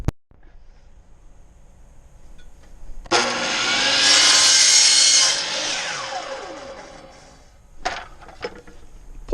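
A power saw bites into a piece of wood and cuts it off, a loud rising and falling mechanical whine lasting a few seconds, followed by a short, sharp burst of noise near the end.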